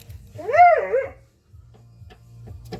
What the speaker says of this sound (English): She's proceeding to woof at me